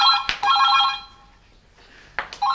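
A home telephone rings loudly and close, an electronic trilling ring that stops and then starts again with another burst, with no talking.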